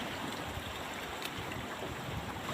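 Waves on a south sea beach make a steady, broad roar of surf and rushing water that holds even throughout, with no voices.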